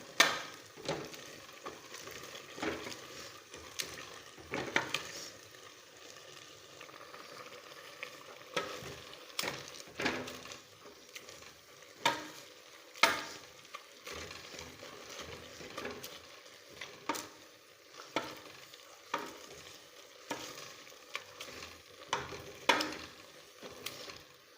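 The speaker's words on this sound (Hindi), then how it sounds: "मेरे पास ये घोटना है, मैं इसकी मदद से इसको बारीक करूँगी" Wooden ghotna masher working through cooked mustard greens saag in a pot, giving a run of soft, wet squelching thuds and scrapes in an uneven rhythm, close and moderately loud, with no talking.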